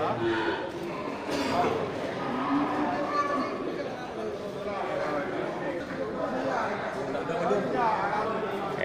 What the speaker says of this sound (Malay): ini terlihat satu ekor kerbau jantan